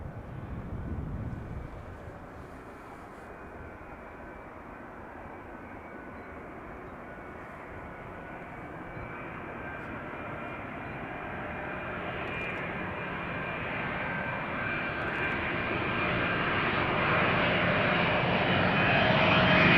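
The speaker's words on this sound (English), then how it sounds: "KLM flight 706, KLM Asia, arriving from Rio de Janeiro" A KLM Boeing 777-200 arriving at Schiphol roars overhead, its jet engine whine rising steadily and growing louder toward the end.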